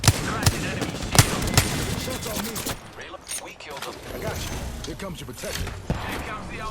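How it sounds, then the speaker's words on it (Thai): Gunfire in the Apex Legends battle royale game, several sharp cracks early on followed by scattered shots and mechanical clatter, with someone talking over the fight. "กำลังยิงกันอยู่ ยิงไม่โดนเลยครับ"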